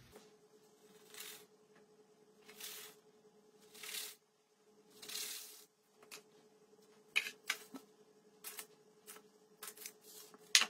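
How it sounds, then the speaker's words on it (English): A cutter presses circles out of puff pastry in a home kitchen: soft, intermittent scraping and pressing sounds in separate bursts with quiet gaps, then a run of sharper short taps near the end, no talking. "Now I've got the puff pastry and we're gonna cut out some circles"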